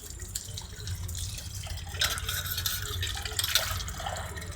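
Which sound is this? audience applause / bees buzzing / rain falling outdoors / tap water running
tap water running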